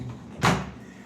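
Bathroom door in a hotel master suite at a Punta Cana beach resort swung shut, a single brief soft thud and rush of air, close by and otherwise quiet.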